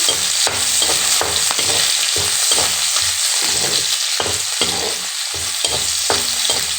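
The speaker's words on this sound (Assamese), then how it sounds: "এইখিনি ধুনীয়াকৈ ৰঙচুৱা হোৱালৈকে ভাজি থাকিম" Onions frying in oil until browned, a steady crackling sizzle broken by regular rhythmic scrapes of a spatula stirring the pan, close and loud with no talking.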